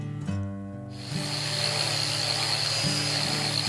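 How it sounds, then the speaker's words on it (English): A random orbit sander sanding a wooden bow handle, a steady, high-pitched whir throughout, with a constant buzzing hum and a brief dip near the start, no talking. "it is time to do the final sanding on the handle with the random orbit sander"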